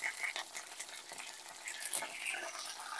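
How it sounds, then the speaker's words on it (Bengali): Curry leaves and mustard seeds tempering in hot oil in a pan, a steady, close crackling sizzle with light scraping and stirring, alone with no voices. "দেব কারি পাতা। ফোড়ন দিয়ে আমরা একটু নাড়িয়ে নেব ভালো করে।"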